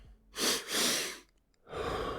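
Heavy breathing before a lift: two long loud exhales close to the mic, a short pause, then another forceful breath, no talking.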